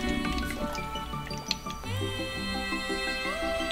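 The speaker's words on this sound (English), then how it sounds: "That's why it's bubbling and taking so long." Coolant gurgles and bubbles in an engine radiator as a dry engine is primed before its first start, a steady close liquid burbling with a faint hum beneath.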